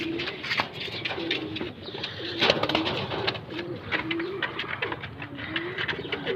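Zera Ferozpuri fancy pigeons coo repeatedly in soft, rhythmic low calls close by, over a steady background of other birds and faint ambient noise.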